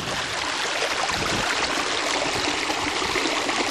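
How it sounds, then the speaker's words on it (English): Spring water runs and gurgles from an underground pipe near a spring-fed pond, a steady close rushing flow with no break throughout. "You can hear the water gurgling."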